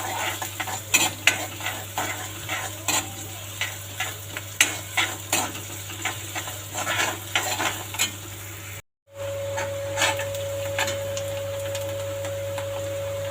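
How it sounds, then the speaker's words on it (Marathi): Onion sautéing in a pan until browned: a continuous sizzle with frequent rhythmic scrapes and clinks of a spoon stirring against the pan, close-up, with a low steady hum and a brief dropout near the end. "कांदा चांगला परतून घ्यायचा लाल होईपर्यंत।"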